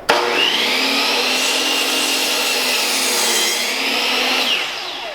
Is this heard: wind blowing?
no